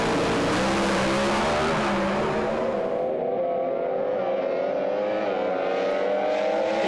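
Pro Stock drag cars at Sydney Dragway roar loudly together with dense, steady engine noise, the sound thinning slightly after a few seconds as the pair pulls away.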